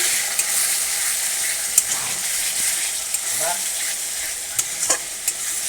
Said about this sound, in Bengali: মশলাটা কষানোর জন্য একটু জল দিয়ে দিলাম, ভালো করে কষিয়ে নেব।